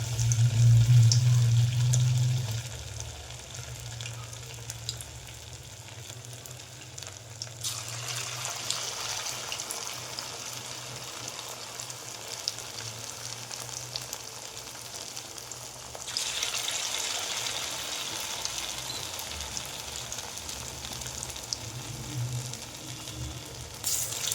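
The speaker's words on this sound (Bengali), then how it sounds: "দিয়ে দিচ্ছি তেলের মধ্যে মশলা" Spices frying in hot oil in a wok while making sabudana vada, a loud sizzle at first that settles into a steady crackle and hiss, swelling again near the end.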